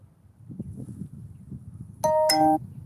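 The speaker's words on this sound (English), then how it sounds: "In case anyone donates, I'll be able to hear the notification." A donation notification chimes once as a bright two-tone ding-dong, loud and clear over quiet background murmur.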